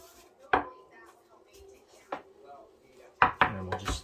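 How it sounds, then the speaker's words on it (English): Fresh oregano leaves roughly chopped with a knife on a board: a few sharp, close knocks, a lone one and then a quick cluster of three or four near the end, with quiet gaps between. "we'll just give that a rough chop as well"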